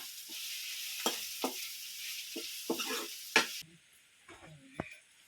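Chopped onions and grated fresh coconut fry in a pan, with a soft sizzle and several sharp scrapes and taps of stirring. The sizzle cuts out partway through, leaving quieter scattered clinks.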